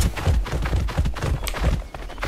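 Horse hooves clip-clop in the video game Ark Fjordur, a rapid run of dull, close, loud thuds over a rumbling game background, with no voices.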